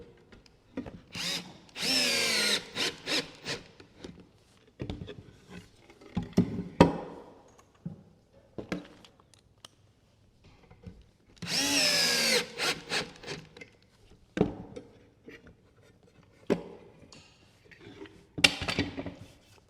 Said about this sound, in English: So I have a number 3 posi drive here in my drill.